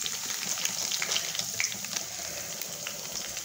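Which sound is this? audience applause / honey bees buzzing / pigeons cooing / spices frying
spices frying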